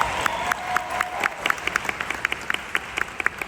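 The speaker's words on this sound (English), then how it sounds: "Let's give him a round of applause" Audience applause at a company skincare presentation, steady rhythmic clapping from a modest crowd, moderately distant, continuing evenly without talk.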